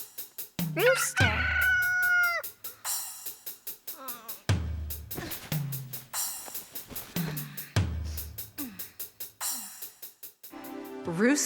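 A farm rooster crows near the start, followed by a series of shorter fowl calls and clucks across the rest of the stretch, fairly close and moderately loud.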